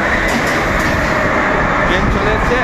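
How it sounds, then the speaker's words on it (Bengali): A loud, continuous rumble and roar of a metro train pulling in, filling the space, with voices in the background. "ট্রেন চলে এসছে"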